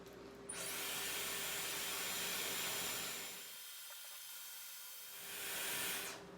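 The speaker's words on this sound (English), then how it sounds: "I'm just going to switch on full temperature, full airflow, and I'm going to hold it on probably for about 20-25 seconds to dry the hair off" A Dyson Airwrap styler runs at full temperature and full airflow, a loud steady whooshing hiss of blown air close by, dipping in the middle as the nozzle shifts, then swelling again before cutting off.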